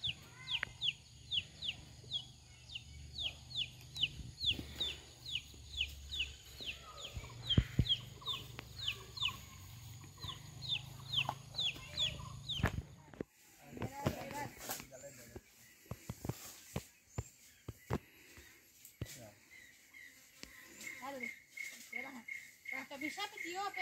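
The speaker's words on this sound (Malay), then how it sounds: "Ayam." Chickens on a farm cluck in repeated short bursts with crickets chirring in the background, while people talk nearby and a clatter of handling noises breaks in partway through.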